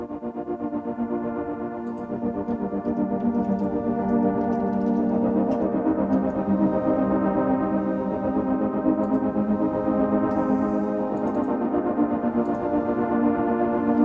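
A sustained synthesizer pad with a pulsing, wobbling texture plays steadily and loud, layered chords filling the mids with no talking.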